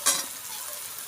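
Potatoes frying with onions in a pan, a sharp sizzling burst at the start that settles into a steady, close hiss of hot oil.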